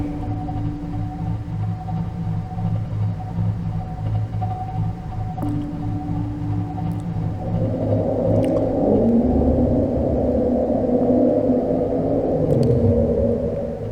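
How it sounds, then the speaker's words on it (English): A deep, drawn-out reaper leviathan roar from Subnautica swells and rumbles over a low droning hum, growing louder and rougher toward the end, with no talking. "Sounds like a reaper."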